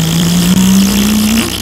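A car engine in a video game revs with a steady, slowly rising drone. It holds loud and continuous from start to finish, with a brief dip near the start.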